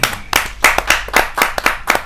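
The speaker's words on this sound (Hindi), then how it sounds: "जोरदार तालियों से आमंत्रित कीजिए डॉक्टर जयसिंह आर्य जी।" Kavi sammelan audience claps to welcome a poet, a short burst of loud, rhythmic clapping from a small crowd with no talking.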